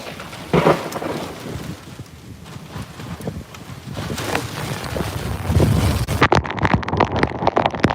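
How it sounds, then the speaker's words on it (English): Hail and heavy rain pelt a car inside a supercell storm's core, a dense roaring patter with sharper impacts and wind noise that intensifies toward the end. "We're in the hail core now."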